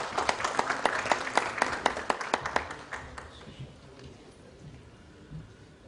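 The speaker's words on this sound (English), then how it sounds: "Please welcome him with a round of applause" A round of applause welcomes a speaker at the inaugural session of a 2015 IT security conference, with sparse, distinct claps up close that thin out and fade after about three seconds into a quiet hall.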